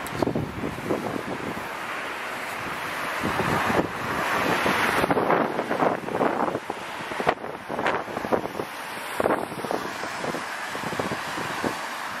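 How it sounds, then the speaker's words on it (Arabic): Cold wind blows steadily and roars across the microphone among the old Dar Baroud ruins in Tangier's medina, gusting louder in places with no talking. "أمام هذا المقطع في هذا المكان أمام هذه الرياح الباردة"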